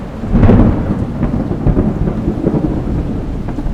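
Thunder from a lightning storm rolls as a deep, dense rumble with a stronger crack near the start, blended with steady rain noise and no voices.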